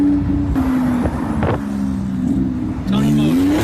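Porsche 911 Turbo engine heard from inside the car, a loud steady drone that rises in pitch as it revs, with brief rattles and thumps.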